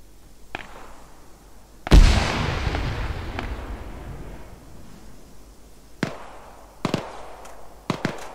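Gunfire in the military game Arma 3: one loud sharp report with a long rolling echo, followed by several fainter distant shots spaced apart over a quiet outdoor ambience.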